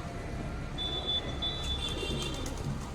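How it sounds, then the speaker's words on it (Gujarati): Pigeons flying and cooing around a house at dusk, a soft cooing call repeating a few times over steady background hum. "કબૂતર હજી ઉડે છે જો"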